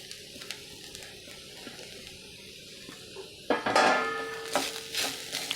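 Onion and grated coconut sauté in a pan, with a quiet stretch that breaks into louder sizzling and utensil clatter for the final couple of seconds.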